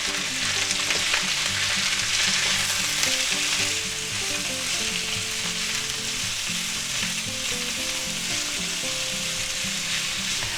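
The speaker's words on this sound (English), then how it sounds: "And we'll put in our nice carrots that we sliced up, right? Put them in there. Mix that around, stir fry them up." Sliced carrots stir-frying in a hot pan with onions and mushrooms, a loud, steady sizzle with stirring throughout and no talk.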